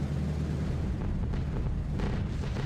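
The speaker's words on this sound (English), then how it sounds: "the cloud of flak is just bloomed into life" In the B-17 The Mighty 8th flight game, anti-aircraft flak thuds and booms in overlapping bursts over a constant, heavy low engine drone.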